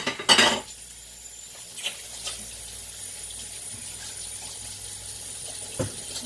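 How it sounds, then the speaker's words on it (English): Hands are washed with antibacterial soap under hot tap water at a kitchen sink while making turkey burgers, with a clatter of dishes at the start, then a steady close stream of running water. "let me wash my hands."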